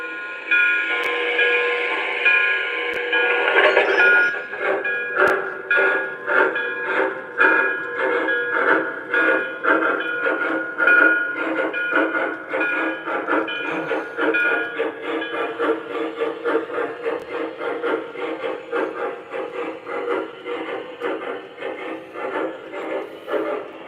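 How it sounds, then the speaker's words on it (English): An MTH Q2 model steam locomotive chuffs rhythmically and steadily, its articulated exhaust beats shifting in pattern every few seconds, preceded by a brief steam hiss, close and loud with no talking. "it does that really cool articulated chuffing where it sounds different like every couple seconds"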